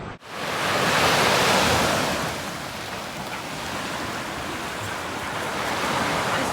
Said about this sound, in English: So this is the Black Sea in Romania.